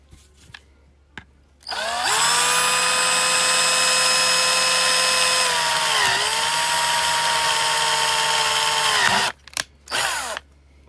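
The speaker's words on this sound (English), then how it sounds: "Let's go get the drill." A power drill bores into a plastic graded trading card slab at a card shop, whining steadily and loudly for about seven seconds with a slight pitch dip midway, then stopping, followed by a couple of brief bursts.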